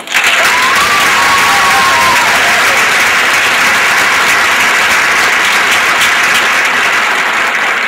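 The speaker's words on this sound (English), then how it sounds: "Please give a warm round of applause for Tyler Donahue" A large audience applauds steadily at a high-school musical reunion concert, a dense, loud wash of clapping that fills the whole stretch with a faint whoop or cheer early on.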